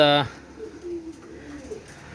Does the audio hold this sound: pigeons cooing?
yes